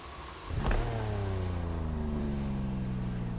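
A BMW M4 sports car engine in the video game The Crew Motorfest starts up with a sharp rev, then settles into a deep, steady idle rumble, close and fairly loud.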